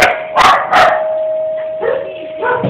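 Dogs bark loudly and close by in two quick barks, then give softer yips and whines over a steady hum.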